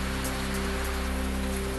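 Heavy rain in Lasalgaon, Nashik, pours as a dense, steady hiss under a constant low electrical hum, with no voices.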